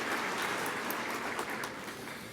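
An audience at a spring commencement ceremony claps, a dense, steady wash of applause filling the hall throughout.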